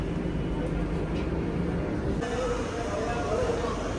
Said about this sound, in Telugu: బయలుదేరిపోతుంది మన ట్రైన్